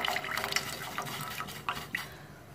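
Leftover water from soaking rice is poured into a cooking pan, making a steady, fairly quiet splashing trickle with a few small spatters and no talking.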